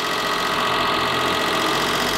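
A cogeneration engine on its first run after assembly, idling steadily with a dense, loud, continuous rumble and vibration, no voices.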